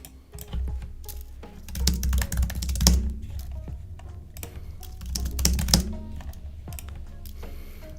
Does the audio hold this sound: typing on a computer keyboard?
yes